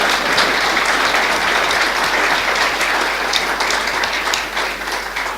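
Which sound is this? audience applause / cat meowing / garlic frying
audience applause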